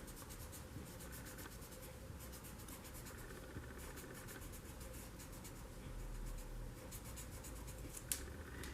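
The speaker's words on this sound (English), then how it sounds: "now I erase this here" An eraser rubs across paper to remove part of a drawing, a faint, steady scrubbing with short rhythmic strokes and a quiet tap near the end.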